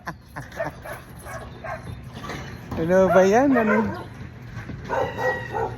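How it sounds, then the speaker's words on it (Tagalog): Several dogs bark, yip and whimper nearby, with the loudest burst of barking in the middle, while people talk over and around the noise. "Daming aso dito mga kabukalbo."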